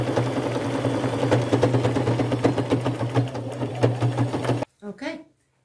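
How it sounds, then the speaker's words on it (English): A sewing machine runs zigzag stitches on denim overalls, a loud fast steady whirring clatter close up that stops abruptly near the end, followed by a brief voice. "So I'll just go to my machine and sew those zigzag stitches."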